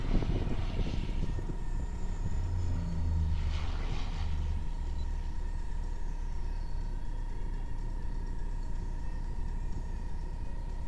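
A relatively large seaplane with floats flies low-level steep turns at the Malta International Airshow, its propeller engine droning steadily with a swelling rumble, moderately distant over a continuous background hum.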